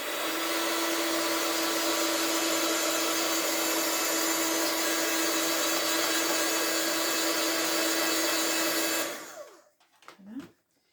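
Steady, loud blowing of a hair dryer drying paint on a craft page, running continuously for about nine seconds before cutting off, followed by a few soft handling sounds.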